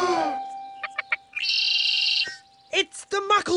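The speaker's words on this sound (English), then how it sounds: "It's the muckle bird." The muckle bird in the Bananas in Pyjamas cartoon gives a string of bright chirps, a sustained whistling trill and warbling tweets, close and clear, with a voice-like warble near the end.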